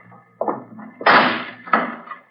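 A heavy vault door swings shut in a 1940s radio drama crypt scene: a short scrape, then a loud central thud and a lighter final clunk, close and with no talk.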